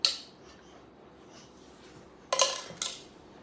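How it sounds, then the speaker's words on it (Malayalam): A spoon clinking against a dish, with one sharp clink at the start and two more near the end over quiet background hum. "സ്പൂണ് ഇതിട്ട് ഇളക്കിക്കോ"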